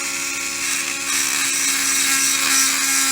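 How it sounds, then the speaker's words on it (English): A rotary buffing tool polishes a metal bullet button to a shine, giving a loud steady high-pitched whir with a constant motor tone throughout and no talking. "you can see it adds a nice little buff to it. And it's all this is buffing it out"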